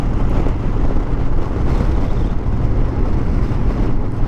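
Wind blows hard through a canyon, a loud, low rumbling rush buffeting close and steady, with no voices.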